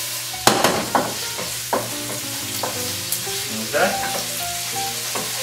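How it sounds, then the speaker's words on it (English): Garlic, onion and tofu fry in hot oil with a steady sizzle, broken by several sharp clinks and scrapes of stirring; someone says a brief word. "we'll infuse the oil with all that great garlic and onion flavor, and it'll firm up the tofu a bit there."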